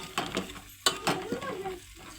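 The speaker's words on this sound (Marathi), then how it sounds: "मटण शिजतं ना" Mutton fries in oil, a short close burst of sizzling with scraping stirs and a few sharp clanks from the pan.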